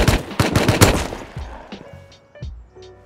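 Gunfire in the video game Rust: a rapid burst of loud close shots in the first second, then scattered fainter single shots trailing off, with no talk.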